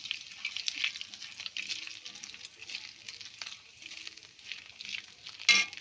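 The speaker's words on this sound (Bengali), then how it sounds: "এবার আমি ফোড়নে দেব 2টো শুকনো গোটা লঙ্কা, তেজপাতা, গোটা গরম মশলা দেব, গোটা জিরে 1 চামচ" Dried red chillies, bay leaf, whole garam masala and cumin seeds sputter and sizzle in hot oil, a steady close frying hiss with small crackles and a sharp clink near the end.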